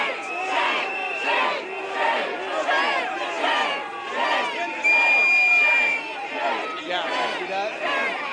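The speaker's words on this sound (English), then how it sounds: "you can hear the crowd here chant" A protest crowd outside a federal building chants and shouts at federal agents, a loud, rhythmic mass of voices repeating in waves with overlapping yells, close and continuous.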